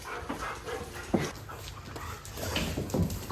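Several dogs whimper and pant close by in a home, excited as a person returns, with scattered small yips and restless movement throughout.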